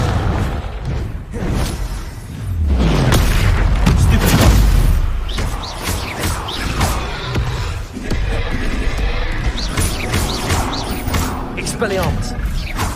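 Fiery Confringo spell blasts in the Hogwarts Legacy video game, a heavy booming burst with low rumble swelling around the middle, set among ongoing combat noise and a voice talking over it.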